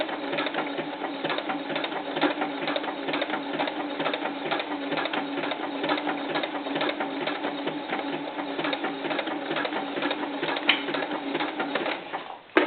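A sewing machine runs without a break for about twelve seconds, stitching stretchy knit fabric for a doll's sleeveless tank top, with a steady, close mechanical whir.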